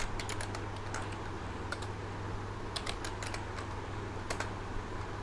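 Typing code on a computer keyboard, scattered clusters of crisp key clicks in short bursts over a steady low hum.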